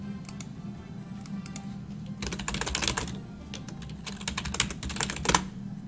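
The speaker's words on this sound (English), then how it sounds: "I really like the feel of the mechanical keyboard." Someone types on a mechanical keyboard at a desk, the clicky keystrokes arriving in uneven bursts of quick taps separated by short pauses, close and fairly quiet, with no speech.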